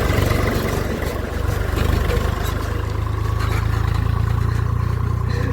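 A tractor engine runs steadily nearby, a continuous low idling rumble with light clatter and no clear revving, holding at even loudness throughout.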